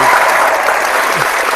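A dense burst of crowd applause fills the whole stretch, loud and continuous, as a round of clapping greets a show guest.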